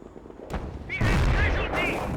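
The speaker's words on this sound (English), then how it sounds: "Looks like another barrage beginning somewhere in the center here." A mortar artillery barrage in Company of Heroes: Europe in Ruins, set in the ruined town of Neuville, sounds as a sharp blast followed by a louder, sustained rumbling burst of explosions with whistling tones on top.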